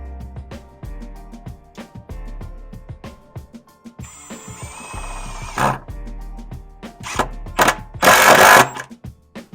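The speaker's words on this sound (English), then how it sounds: "I'm just gonna start screwing this one in" A screw is being driven into a wall to mount a garage tool rack, with a power driver whirring in several bursts, the loudest one near the end, over a steady low hum and scattered knocks.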